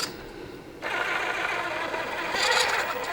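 A cheap RC crawler's motor driven by an Injora MB100 ESC, running with a quiet, steady whine and hum that steps up after a brief near-silent start and swells slightly near the end.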